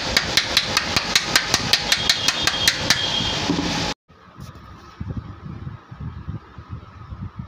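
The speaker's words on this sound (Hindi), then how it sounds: "और बैक कवर लगाने के बाद इसके तीनों पेच लगा दूँगा।" Rapid, evenly spaced metallic tapping while fitting the three screws on the back cover of a Mahindra Treo 3000 W e-rickshaw motor, loud and close, then a sudden drop to quieter workshop clatter and low rumble.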